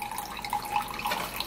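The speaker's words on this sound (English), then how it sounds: "you can actually choose to sieve it. So I'm gonna be sieving this" Juice drips and trickles through a sieve in a close, continuous light patter with small splashy drops, heard alone.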